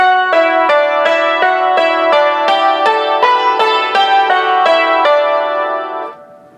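Bright, ringing yangqin notes played two-handed in steady paired octaves, a brisk even rhythm of repeated strokes that rings out and fades at the end.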